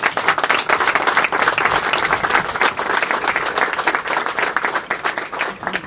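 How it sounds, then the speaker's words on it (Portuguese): Steady applause from an audience at the official inauguration of a zipline in Cabo Verde, honoring its promoter Francesco Manini; dense, even clapping holds throughout at close range with no talk over it. "os diretores que dessem uma salva de palmas ao promotor Francesco Manini"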